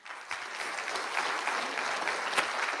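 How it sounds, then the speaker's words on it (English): Audience applause at a public listening-tour meeting of the Arizona redistricting commission, a steady wash of clapping from many hands filling the room for a few seconds. "please hold your applause"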